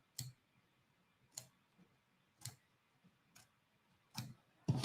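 Duckbill scissors snip through appliqué fabric during a pillow sewing project, giving about six short, crisp cutting clicks spaced roughly a second apart, close and fairly quiet with near silence between.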